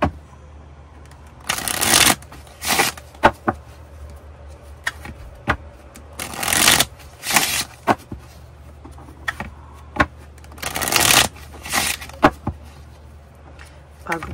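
A deck of cards is shuffled by hand in several quick bursts of riffling and snapping, each separated by short pauses and lighter card handling sounds.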